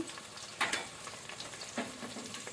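Onions browning in a pan for a homemade jackfruit biryani crackle with a dense, close sizzle, broken by a couple of sharp stirring scrapes. No voices.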